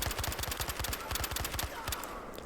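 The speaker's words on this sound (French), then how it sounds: "c'est une MG36" MG36 machine gun firing in the Battlefield Hardline video game, a rapid steady burst of about a dozen close, punchy shots followed by a brief trailing echo.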